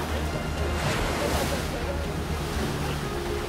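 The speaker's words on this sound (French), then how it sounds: "C'est les vagues!" Ocean surf at a Hawaii beach, waves breaking and washing in a steady loud roar with wind buffeting the microphone, while people shout faintly in the background.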